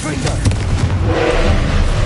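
A Confringo explosive spell erupts in Hogwarts Legacy with booming, blast-like impacts rolling through thick, continuous game noise, a voice mixed in beneath the explosions.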